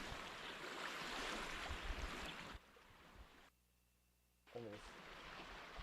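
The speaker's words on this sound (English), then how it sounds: "Silence the waves a little bit." Ocean waves at a vacation seaside spot, a loud rushing surf wash that suddenly drops, cuts to near silence, then returns more quietly.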